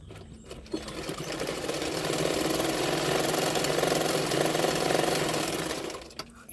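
A sewing machine stitching a katori blouse, its motor whirring up into a steady rapid run of stitches for several seconds before slowing and stopping, close and alone.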